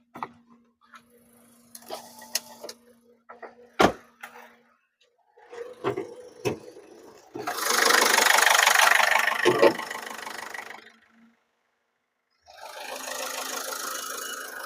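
A 2015 Ford EcoSport Titanium diesel idles after a push-button start, with a steady low hum, scattered clicks and knocks, then loud broadband rushing bursts near the end.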